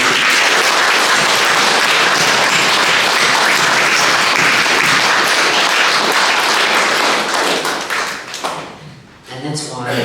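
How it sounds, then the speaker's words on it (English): A seated audience at a stroke recovery art showcase launch claps and cheers loudly and continuously, a dense wash of applause that fades out near the end. "I think we should give you a big cheer now"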